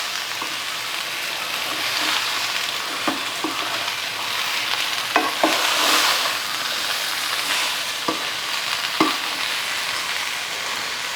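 Gooseberries for Kerala-style pickle heat in a pan with a low, even sizzle, punctuated by scattered knocks and scrapes of stirring and a brief hissing swell midway, nearby and with no talking.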